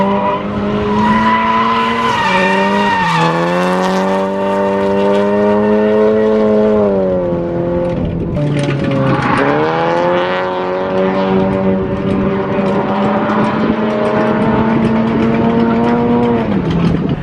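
Cars lapping a small track, a loud close engine note rising and falling through gear changes and revs, sustained for the whole stretch with a brief dip mid-way, no talking.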